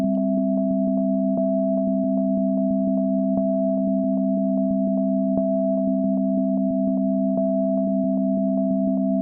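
Synthesized sine-like tones holding a sustained chord with an added major third, pulsing in a steady rapid rhythm of evenly spaced clicks, constant in loudness and alone.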